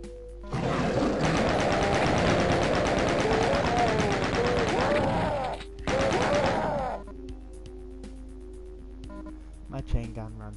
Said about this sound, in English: My chain gun runs through a lot of ammo, for I am not an accuracy man.